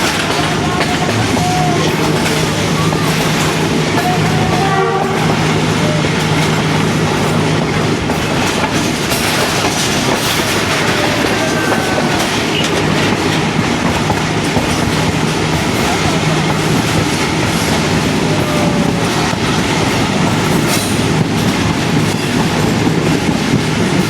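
Rehman Baba Express passenger train gaining speed on the rails in Pakistan, a loud continuous rumble with rhythmic clickety-clack of wheels and occasional metallic squeals, heard from inside the carriage.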